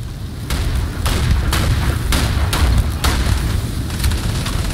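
A grenade blast in the Starfield video game rumbles as a loud, continuous low boom with several sharp bursts layered over sustained fiery noise, with no talking.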